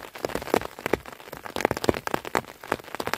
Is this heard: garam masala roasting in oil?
no